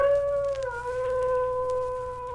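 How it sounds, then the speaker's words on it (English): A wolf-like howl, probably a dog down the street, rises as one long, clear, sustained cry with a slight downward bend, fairly close and loud and heard alone. "It sounded like a wolf."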